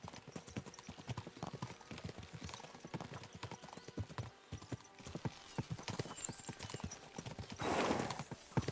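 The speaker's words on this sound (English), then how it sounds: "We should spur the horses on!" Horse hooves clip-clop steadily at a gallop in the video game Kingdom Come Deliverance II, dense rhythmic thuds running throughout with a brief swell of wind-like noise near the end and faint voices underneath.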